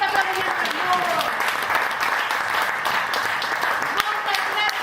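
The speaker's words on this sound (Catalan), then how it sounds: "Un fort aplaudiment per tots." An audience at a multi-theatre event on the referendum breaks into strong, dense applause that carries on steadily throughout, with voices calling out over the clapping.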